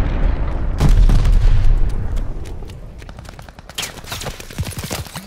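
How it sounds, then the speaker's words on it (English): Mortar shells exploding in the Call of Duty: Vanguard video game, heavy booms and a crash of blasts up front, then a thinning rumble broken by sharp cracks of rapid gunfire near the end. "They're sending mortar shells!"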